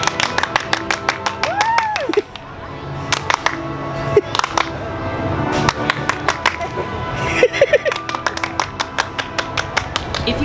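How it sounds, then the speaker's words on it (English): A Disneyland clap box plays recorded applause: dense bursts of sharp hand claps with some whooping voices, coming in irregular waves over a steady park background. "If you ever encounter a clap box, as they're known at Disneyland, we highly recommend this free and fun confidence boost."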